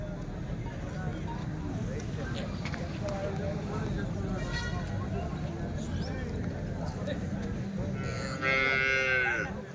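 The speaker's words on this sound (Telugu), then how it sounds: "రెండు హెచ్ఎఫ్ ఆవులు అయితే ఉన్నాయండి" Holstein Friesian cows low and moo amid a busy outdoor crowd of talking people at a weekly cattle market in Punganur, with one loud bellow rising near the end.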